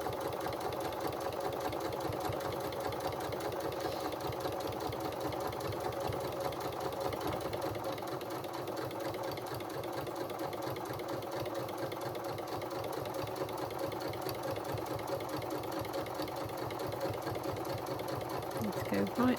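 A sewing machine runs steadily, stitching bias binding onto the hem of an Eva dress, a continuous close whirring chatter with a person speaking softly over it.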